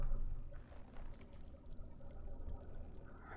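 Water pours into an earthen clay jug in the video game Dragon Age: Origins, a faint, steady gurgling stream lasting a few seconds with no talk.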